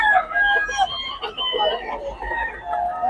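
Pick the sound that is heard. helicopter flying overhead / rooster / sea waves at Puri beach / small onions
rooster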